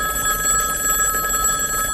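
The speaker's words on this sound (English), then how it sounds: "A ringing phone." A telephone bell rings insistently, a continuous bright metallic trill that fills the short stretch, loud and close, with no voices.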